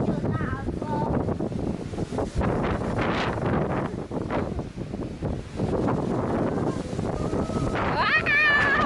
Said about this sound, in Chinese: 有大风。